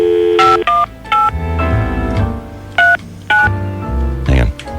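A telephone number is punched in on a touch-tone keypad, giving a string of distinct, loud dialing beeps separated by short gaps, with low rumbling sounds between them.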